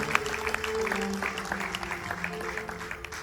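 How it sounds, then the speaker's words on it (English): A crowd at a Ganesh Chaturthi festival night claps for the Pandit and his team. The applause is moderately loud and steady, with background music tones humming underneath. "Please give Pandit and his team a round of applause"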